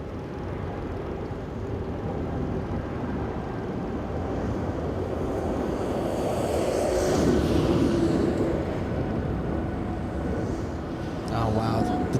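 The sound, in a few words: Philippine Airlines airliner taking off at LAX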